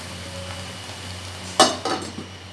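A metal lid clanks down onto a cooking pot while pork belly and enoki mushrooms cook, one sharp clatter followed by a couple of smaller rattles as it settles, over a low steady kitchen hum.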